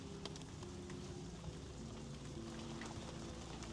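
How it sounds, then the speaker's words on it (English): Rain falls in a steady, dense hiss with occasional sharper drops, faint and even throughout with no voices. "It's raining right now."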